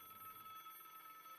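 A telephone rings in the video game Broken Sword, a faint, steady electronic trill heard alone for a brief moment.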